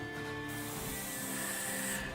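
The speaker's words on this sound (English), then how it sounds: "I just loaded my airbrush with white ink" A steady airbrush hiss sprays white ink continuously onto Warhammer terrain, starting after a brief moment and holding at an even level until it cuts off near the end.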